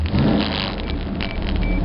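A turbocharged 1 liter three-cylinder engine from a Canadian-market 1987 Pontiac Firefly, swapped into a small car, runs with a steady close buzzing drone that surges slightly as it revs.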